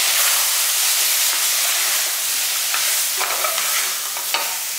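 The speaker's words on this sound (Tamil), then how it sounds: "பாருங்கள் நல்லா வதக்கிக்கலாம்." Spices sizzle and fry in a pan while being stirred for a pea and soya kurma, a steady loud hiss with occasional scraping stir sounds.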